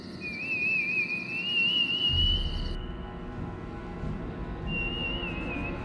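A thin, wavering whistle drifts in twice, eerie and sustained, over a low background rumble.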